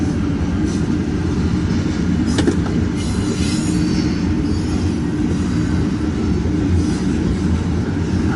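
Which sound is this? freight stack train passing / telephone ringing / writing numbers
freight stack train passing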